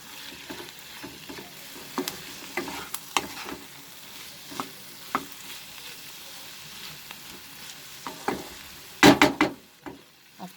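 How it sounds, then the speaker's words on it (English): Garam masala powder being stirred into potato and wild spinach (bathua) frying in a pan, a soft steady sizzle under scattered scraping spoon strokes that bunch into a louder flurry near the end. "After mixing the garam masala powder"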